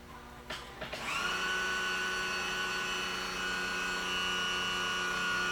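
A boat's outboard power-trim motor starts with a couple of clicks, then settles into a steady, fairly quiet electric whine as the engine tilts upward, holding an even pitch until the end.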